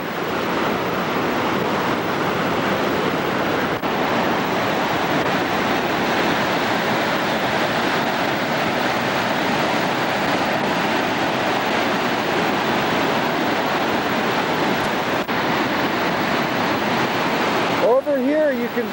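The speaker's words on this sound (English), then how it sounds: "This is the Russian River Falls, and you can see it's pretty steep stuff." Russian River Falls in Alaska, a steep waterfall, roars as a steady, dense wash of rushing water that holds even and loud throughout, with brief wind buffeting near the end.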